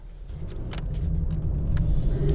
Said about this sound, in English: that big fat burbly V8 engine, the little throaty, like kind of raspy V8 that this car has